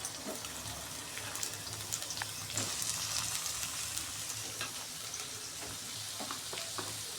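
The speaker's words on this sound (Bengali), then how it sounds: "পেঁয়াজগুলো দিয়ে জাস্ট 5 মিনিট একটু ফ্রাই করে নেব।" Long-sliced onions fry in hot oil tempered with black cumin, a continuous soft sizzle with occasional stirring scrapes and small crackles throughout.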